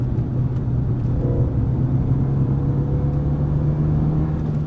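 A car accelerating on the Dreux race circuit, a steady loud low engine drone heard from inside the car with no speech.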